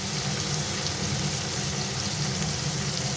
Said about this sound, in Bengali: এবারে এটাকে লাল করে একটু ভাজতে দিলাম।